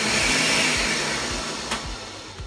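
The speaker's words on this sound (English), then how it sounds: "So I'm gonna go ahead and pulse it a few times just to break everything down." Kitchen blender pulsing chopped vegetables for homemade juice, a loud motor whir in short repeated bursts with clattering pieces, followed by a brief sharp click.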